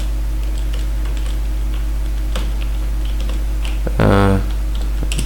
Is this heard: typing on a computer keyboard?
yes